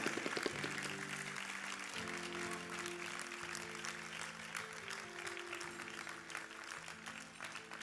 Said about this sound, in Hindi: उसके लिए तालियां बजा दो जिसने लिखा है।